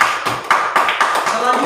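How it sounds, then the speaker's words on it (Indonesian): A classroom of fourth-grade pupils claps for a group of classmates, a few quick bursts of hand claps in close succession, near and moderately loud, with a teacher's voice mixed in. "tepuk tangan untuk kelompok 1"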